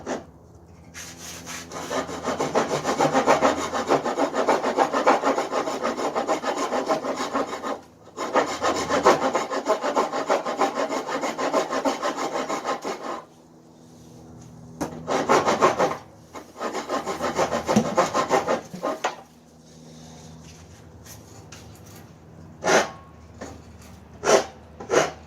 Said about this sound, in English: I gave you the rasp so that you don't have to use the ridiculously sharp tools.